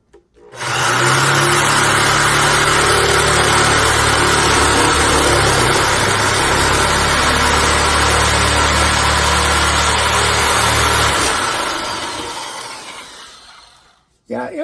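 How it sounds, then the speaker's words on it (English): Metal shears cut across the ribbed steel roof of a Promaster van, a loud, steady rasping grind with motor whine that runs for about eleven seconds, then winds down and stops near the end. "Let's see how it cuts the other direction over these ridges"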